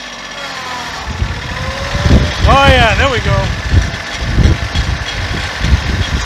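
A Kioti CK2610 compact tractor engine runs with a steady low rumble as it is shifted into high gear. Someone speaks briefly over the engine noise.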